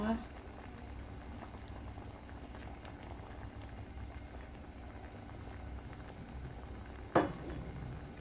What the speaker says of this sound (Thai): ตอนนี้ปูเริ่มเดือดแล้วนะคะ เริ่มสุกแล้วค่ะ